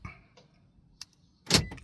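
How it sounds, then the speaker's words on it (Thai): A Toyota Corolla Altis locking from its smart key remote: a small click, then a short, loud mechanical clunk from the door lock actuators, close by in a quiet setting. "ทดสอบรีโมท ก่อนนะครับ ล็อกครับ"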